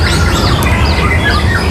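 A young white-rumped shama (murai) sings in loud, close warbling chirps and tweets over dense background noise. The song is brief and continuous.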